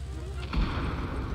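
A deep artillery boom rolls in midway through a World War II battle game set in Tunisia, North Africa, heavy and rumbling beneath a constant low background of game noise.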